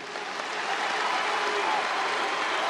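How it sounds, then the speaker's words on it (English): A huge stadium crowd applauds Zine al-Abidine Ben Ali at a Tunisian election rally: continuous massed clapping that swells slightly and then holds as a thick, even wash of sound. "35 minutes of applause aired on state television."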